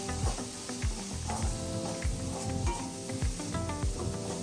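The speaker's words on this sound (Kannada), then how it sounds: "ಮತ್ತೆ ಗರಂ ಮಸಾಲ ಇಷ್ಟು ಹಾಕಿ ಫ್ರೈ ಮಾಡ್ಕೋಬೇಕು" Mushroom masala with chilli powder and garam masala sizzling and frying in a pan, with a steady close crackle, repeated low thumps and scrapes of stirring, and no one speaking.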